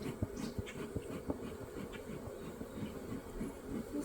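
Honey bees from a nucleus colony buzz steadily at an opened hive being smoked. The drone is close and continuous and stays fairly soft, with no talk over it.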